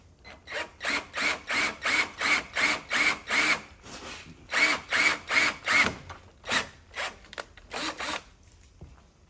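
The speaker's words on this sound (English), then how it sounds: "I'll just drill it out to that" A drill boring a 1/8 inch hole in aluminum while fitting a transmission cooler on a GM truck, sounding as a run of short, evenly spaced whirring bursts, loud and close with brief pauses.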